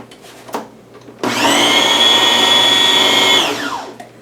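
An electric mixer whirs up to speed through ham salad, a loud, steady motor whine lasting about two seconds before winding down, with faint handling clatter just before it starts.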